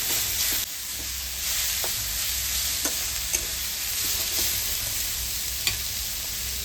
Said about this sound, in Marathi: आता टमाटर चांगले परतून द्यायचे शिजून।